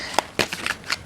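Tarot cards are shuffled in a few quick, close riffling bursts, with brief pauses between handfuls.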